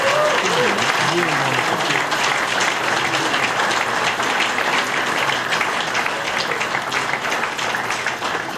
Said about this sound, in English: Give Jim a big round of applause, Jim.